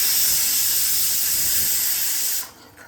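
Onion-garlic masala with turmeric and red chili powder hissing as it sautés in a hot pan, a loud steady sizzle that cuts off abruptly near the end.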